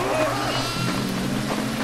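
Goat bleats inside a video game, a wavering bleat with rising harmonic sweeps over steady low game background noise.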